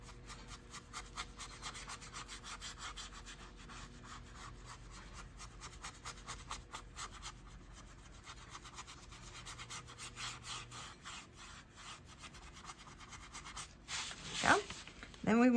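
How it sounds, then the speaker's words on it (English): Paintbrush loaded with white paint scrubbed against a painting surface, a steady soft rubbing texture in close, quick repeated strokes throughout, with a brief louder scrape near the end. "I just want to come in here and scrub."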